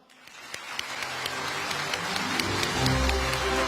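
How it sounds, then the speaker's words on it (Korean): Audience applause following a formal speech by a prime minister at a lecture event, clapping that starts sparse and builds into a dense, steady round filling the hall, with no talking over it. "다시 한번 박수를 부탁드립니다"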